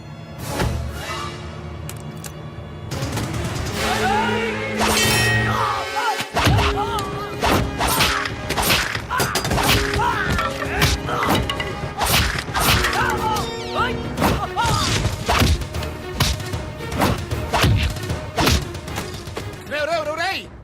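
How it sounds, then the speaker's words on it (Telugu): Heavy fight-scene impacts ring out in a Telugu comedy film climax as car windows are smashed: dense rapid whacks, crashes and thuds over background music with voices mixed in throughout. "కారు అద్దాలు పగలగొట్టి వాడిని బయటికి ఇచ్చి"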